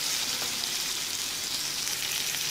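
Thinly sliced onion frying in oil in a pan, a steady close-up crackling sizzle that holds evenly throughout, with no voices.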